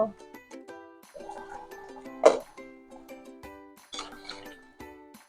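A metal lid settles onto a pot of amra korma cooking in coconut milk, giving a sharp clink near the middle amid lighter utensil taps, with soft background music tones throughout.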